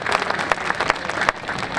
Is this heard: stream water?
no